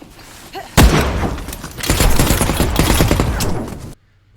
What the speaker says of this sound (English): The initial shot was taken at a distance that would allow me to dip to cover quickly